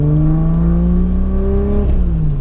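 A Nissan 300ZX fitted with a 2JZ engine drives along with a steady, loud engine drone and strong harmonics. Its pitch dips briefly around a gear change, and no one speaks.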